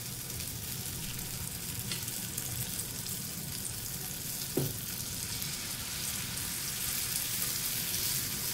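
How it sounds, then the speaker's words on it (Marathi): Thalipeeth sizzling and frying in ghee on a hot tawa, a steady close-up crackle with a brief louder pop midway and no talking. "इथे मी थोडे तूप लावते तव्याला"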